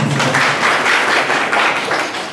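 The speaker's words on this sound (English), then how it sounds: "give a round of applause for" Audience applause at a semi-final cooking contest, a brief dense burst of many hands clapping together, steady and fairly loud before it tapers slightly.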